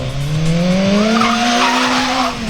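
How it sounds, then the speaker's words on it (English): A BMW motorcycle at a stunt show skids with both tires locked and ABS off, giving a loud, sustained tire squeal that rises slightly in pitch over a couple of seconds, close and continuous. "both tires locked up, skidding all over the place"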